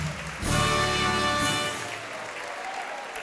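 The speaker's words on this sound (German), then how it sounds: "Wahnsinn, ein Applaus" A burst of crowd applause at a Weiberfastnacht carnival event in Hesse, swelling suddenly, holding loud for about a second, then thinning out as music lingers faintly underneath.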